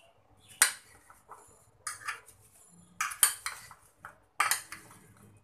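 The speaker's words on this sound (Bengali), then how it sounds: "তো দিয়ে এগুলোকে একসাথে সবগুলো মিক্স করে নিচ্ছি।" A spoon clinking and scraping against a bowl while oil-free iftar ingredients are mixed, four or five sharp bright clatters at irregular intervals, close and fairly quiet, with no talking.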